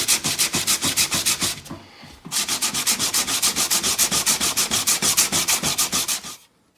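Rapid rhythmic back-and-forth coarse-grit sanding strokes on a wooden cutting board, close and loud, pausing briefly before resuming and then stopping.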